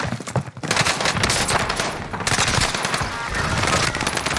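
Rapid automatic gunfire fills a video game shootout, dense overlapping bursts of shots ringing out loud and nearly continuous, with no voices.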